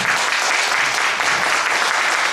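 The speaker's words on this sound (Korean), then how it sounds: "박수." An audience at a musical performance claps for introduced guests and teachers, a dense, even wash of applause filling the whole short stretch at full strength.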